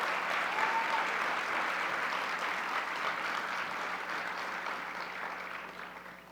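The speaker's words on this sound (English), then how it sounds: "Let's give them a round of applause." A gala audience applauds in a large hall, a dense, even wash of clapping that holds steady for several seconds and then tapers off, heard from a slight distance with no talking over it.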